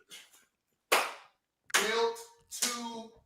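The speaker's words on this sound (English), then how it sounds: "Who is back there clapping it like that?" Sharp hand claps in a talk-show studio, a few loud separate bursts spaced apart, with short bits of voices between them.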